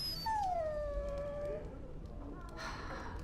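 A dog in the video game Dragon Age: Origins lets out a single long, drawn-out whimpering whine that slowly falls in pitch, followed by a quieter tail, heard over a faint game background.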